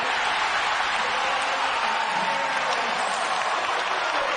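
A basketball arena crowd roars and cheers steadily, a dense wall of applause and shouting that fills the whole space without letting up.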